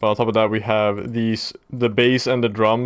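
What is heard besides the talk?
No distinct noise like a dog, phone or traffic.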